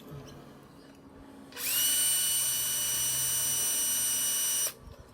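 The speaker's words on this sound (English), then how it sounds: "So what we need to do is drill that out." A power drill drilling out a gas regulator valve whines steadily for about three seconds at a high, even pitch, then cuts off, with quiet room tone before and after.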